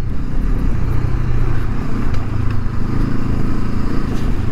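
Honda CL500 Scrambler motorcycle, a 2023 model, riding on gravel, its engine a steady loud low drone with constant wind and road roar throughout, no voices.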